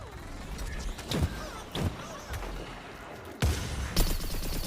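Gunfire in Plants vs. Zombies: Garden Warfare crackles in repeated bursts of sharp shots over a constant rumbling background, loud and close.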